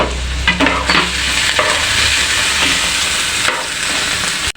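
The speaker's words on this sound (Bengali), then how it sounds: "চিংড়ি মাছগুলি ভাজা হয়ে গেলে এখন এগুলি আমি তুলে নেব" Shrimp fry in an oiled pan for a taro-stolon dish, giving a steady, loud, close sizzle with stirring scrapes throughout, no voices.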